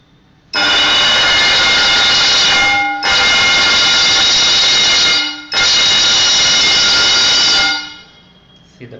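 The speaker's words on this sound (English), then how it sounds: "the bell rang for 3 times at the rate of 2 seconds" A microcontroller-driven automatic college bell rings three times in loud, sustained bursts of about two and a half seconds each, separated by short gaps, with no voices.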